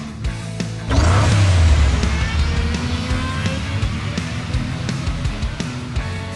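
A car engine revs hard in a Hot Wheels Unlimited video game race, surging loudly after a brief lead-in, then settling into a steady engine drone with scattered clicks and small game effects.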